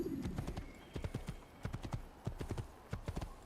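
Horse hooves clip-clop in the game Assassin's Creed, a quick irregular run of sharp near hoofbeats in small bursts with no talk over them.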